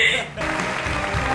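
Canned applause plays as a steady wash of many hands clapping, rising after a brief opening sound and holding at an even level to the end.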